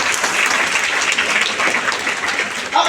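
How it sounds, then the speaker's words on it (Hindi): Loud, dense applause from a meeting audience, steady clapping from many hands that runs without pause for about three seconds and fills the room. "उनके लिए एक जोरदार ताली होनी चाहिए।"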